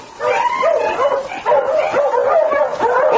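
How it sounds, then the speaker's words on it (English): A husky named King barks and yips in a continuous run of sharp, whimpering calls, close and fairly loud, with no talk over it. "and suddenly I heard a dog"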